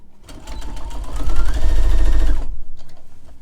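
A sewing machine restitching the fly front of a pair of pants, a close, loud, rapid mechanical whir that speeds up and runs steadily for about two seconds, then drops to a few slow stitches, with no talk.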